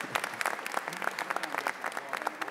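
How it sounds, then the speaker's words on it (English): Scattered audience applause at a heritage day event honoring historically Black colleges, individual hand claps crisp and distinct in a quick irregular patter, fairly faint and without voices. "That was a clap as well."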